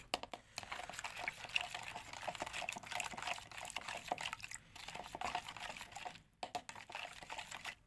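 A utensil stirs a liquid mixture in a bowl, producing a continuous quick, faint clicking and scraping with light sloshing.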